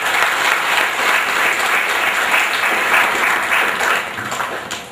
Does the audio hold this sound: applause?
yes